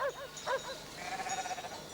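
Ewes kept for milking bleat in quick, short calls near the start, then a longer, quieter bleat trails off over a soft outdoor background.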